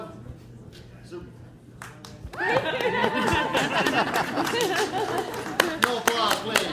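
A small audience claps at an open house for a wellness business, the applause breaking out suddenly after a quiet moment and continuing steadily with chatter and light laughter mixed in.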